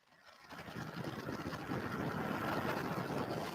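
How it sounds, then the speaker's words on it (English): Liftoff of the first United Launch Alliance Vulcan rocket, its engines building from near silence into a loud, sustained broadband roar that swells and holds steady, heard from a distance without any talk over it. "And liftoff of the first United Launch Alliance Vulcan rocket, launching a new era in spaceflight to the moon and beyond."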